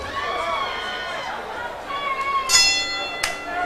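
A boxing ring bell rings twice at a 1998 bout to end the fifth round, two bright clangs under a crowd's chatter and an announcer's voice.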